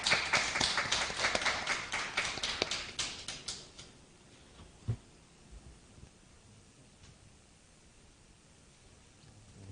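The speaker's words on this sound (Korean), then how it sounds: "박수로 모시겠습니다" An audience at a youth dharma service claps to welcome a speaker, a brisk burst of many hands that fades out over about four seconds, leaving a quiet room with a few faint knocks.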